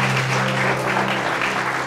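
A church congregation claps together at a sermon, a dense, steady wash of applause sustained throughout with a low hum underneath.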